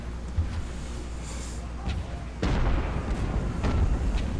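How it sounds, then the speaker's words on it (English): Artillery booms in an American Civil War fort-defense video game: a few deep, rumbling blasts, some distant and one heavier near the middle, over a continuous battle background. "Oh, trying to shoot at us."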